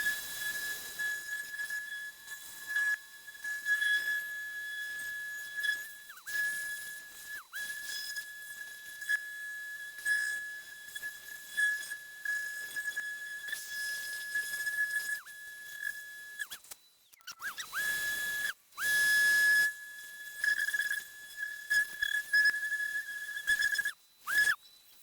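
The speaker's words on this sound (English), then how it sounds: "This 5-inch Merca has been a great sander." A 5-inch Merca sander runs steadily, giving a sustained high whine over airy hiss for about 25 seconds, with brief dips where the tool is lifted or shifts, likely while fixing a hole in the door of a Wacker Neuson EZ50 excavator.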